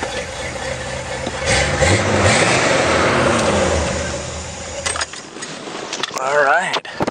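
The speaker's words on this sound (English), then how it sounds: "it gets a little bit more of a lopey idle to it when you put a load on it" A car engine idling with a lopey, uneven rhythm while under load, rumbling steadily for about five seconds, then dropping away amid rattles and a short metallic jangle near the end.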